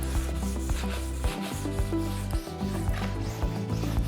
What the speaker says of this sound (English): overlapping, just back and forth, the final bit of sharpening that we need to do